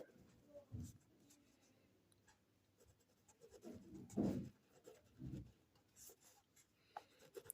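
A pen scratches on paper in soft, intermittent strokes during a Class 9 maths lesson on circles, faint and close, with some low murmuring in the background.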